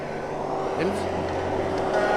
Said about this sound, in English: The truck coming in.